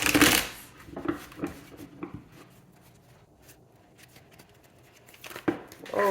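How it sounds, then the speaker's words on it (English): A deck of tarot cards is shuffled up close, with a burst of riffling at the start followed by soft scattered taps and card slides, and a second brief flurry near the end. "One more shuffle."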